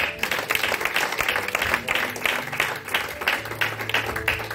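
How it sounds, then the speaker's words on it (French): A church congregation claps and cheers to acclaim the Lord, with a steady, full burst of applause from a crowd that holds throughout. "Est-ce que tu peux acclamer les Seigneurs?"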